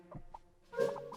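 Chickens on a woodland mushroom hunt give a few close, soft clucks, short scattered calls followed by a louder burst of clucking near the end, with no speech.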